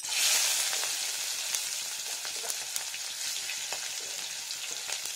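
Sliced onion sizzles loudly and steadily in hot ghee in a pan while cooking potato and pointed gourd curry, with light stirring scrapes over the constant frying.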